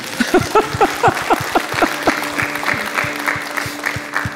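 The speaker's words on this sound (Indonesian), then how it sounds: "Berikan tepuk tangan" A church audience claps in a steady burst of applause, close and lively, while a voice with sung or spoken tones carries over the start.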